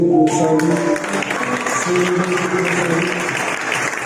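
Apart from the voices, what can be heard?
congregation applauding to acclaim God in church service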